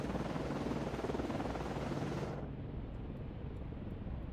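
An aircraft launches from a ship in a naval video game with a dense, continuous roar; partway through, the bright upper hiss cuts off and the rumble carries on more muffled.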